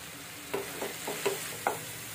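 Ridge gourd cooking with salt and turmeric in oil for a milk curry is stirred in a pan, giving a few quiet utensil scrapes and taps over a faint background sizzle, close and without talking.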